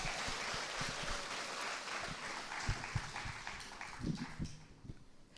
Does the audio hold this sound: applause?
yes